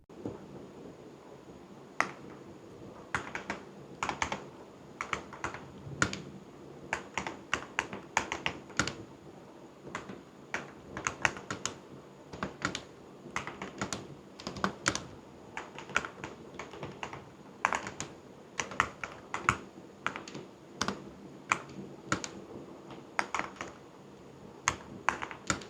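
Someone types steadily on an upgraded MCHOSE Ace 68 Air mechanical keyboard, producing a long run of crisp, rapid, close-up keystroke clicks with brief pauses and no talk.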